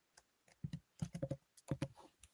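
Quiet bursts of computer keyboard typing, clusters of quick key presses with short pauses between them, close and alone without talk.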